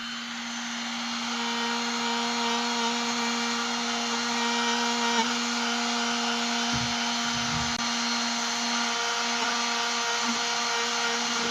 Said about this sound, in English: you take your Dremel, turn it on.